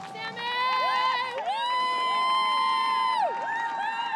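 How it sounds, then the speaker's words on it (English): Local fans along the Pacific Coast Highway cheer a hometown triathlete at the 2014 Nautica Malibu Triathlon, with shrill whistles and whoops rising and falling above steady crowd noise. "a slew of local fans cheer on their hometown hero"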